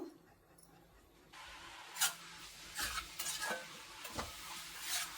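Onions frying in oil in a pan for a spicy chicken fry, quiet at first and then a steady sizzle with several brief stirring and scraping bursts, heard close and fairly faint.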